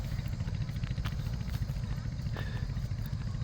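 A trawler boat's engine chugs on the Meghna river, a steady low, rumbling throb with light mechanical clatter, close and continuous, with no talking over it.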